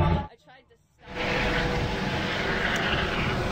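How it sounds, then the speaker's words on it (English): Police helicopter over a Chicago street protest, a steady broadband rotor and engine roar rising in after a quieter first second and holding loud and continuous overhead. "we have a police helicopter overhead right now"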